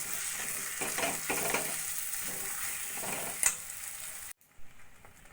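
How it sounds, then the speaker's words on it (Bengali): Fresh cream being stirred into chicken curry in a pan on the stove, a gentle steady sizzle with soft scraping strokes of the spoon, close and alone, cutting off abruptly near the end. "ক্রিমটা ভালো করে চিকেনের সঙ্গে মিশিয়ে নেব"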